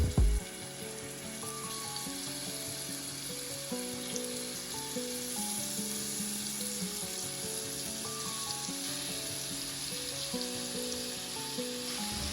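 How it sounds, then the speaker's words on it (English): Steady oil sizzle of steak frying in a hot pan, continuous and fairly loud, with a melodic music bed running underneath throughout. "you're gonna allow it to sizzle and brown on one side"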